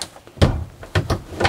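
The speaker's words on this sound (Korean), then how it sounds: "그래서 문을 닫으면" A cabin door on a Bali 4.2 catamaran yacht is pushed shut indoors, giving two or three close, dull knocks and latch clicks spread over a second and a half.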